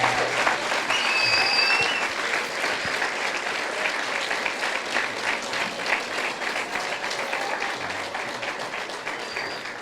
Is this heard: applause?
yes